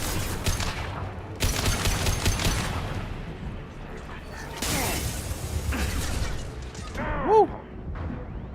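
Bursts of gunfire and mechanical clanks from a Mass Effect firefight aboard a ship heading to the prison block, with dense loud volleys early on, scattered shots and metallic effects later, and a brief voice near the end.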